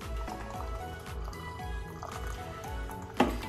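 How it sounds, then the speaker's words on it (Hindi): Hot water is poured into a cup already holding honey, a gurgling, dripping stream of liquid with rhythmic glugs close to the microphone, ending with a brief clink. "अब इसमें गर्म पानी"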